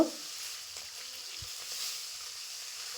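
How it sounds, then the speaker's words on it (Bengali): Soft, steady hiss of small fish frying one at a time in mustard oil, fairly quiet, with a faint low bump partway through and no voices. "এরপর আমি মাছগুলো একটা একটা করে ভেজে নেব।"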